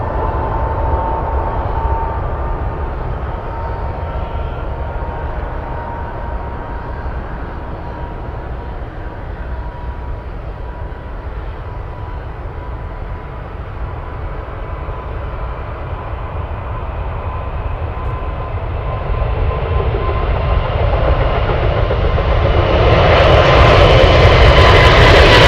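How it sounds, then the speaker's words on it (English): A heavy Boeing 747 cargo jet at Anchorage thunders down the runway on a late takeoff, its steady engine roar with a whining tone swelling louder and harsher toward the end. "That was such a late takeoff."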